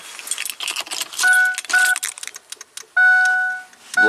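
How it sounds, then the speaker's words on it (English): An ignition key is cycled on and off in a 2003 Ford F450 Power Stroke diesel wrecker, with close key clinks and jangling followed by repeated electronic chime tones, two short ones and then a longer one. "Let me cycle the key on and off again."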